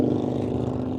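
Stock exhaust of a 2024 Indian Challenger Dark Horse motorcycle engine, a steady loud low rumble with a rich harmonic tone, held at a constant drone throughout without any talking.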